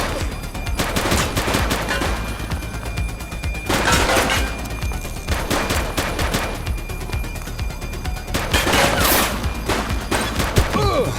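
Continuous heavy gunfire from a police shootout in the video game The Precinct, with dense overlapping shots and louder bursts throughout.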